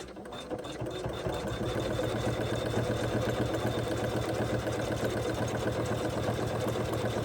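An embroidery machine sewing top stitching on an in-the-hoop zipper placket for a mini tote bag: a fast, steady mechanical rattling hum close by, running continuously.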